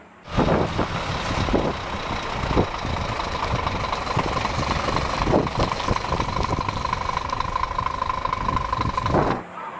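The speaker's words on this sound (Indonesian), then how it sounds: "Ini mobil truk molen, mixer truk." A toy concrete mixer truck rolls nearby with a steady whirring rumble, broken by scattered clicks and rattles of plastic parts, with no voices.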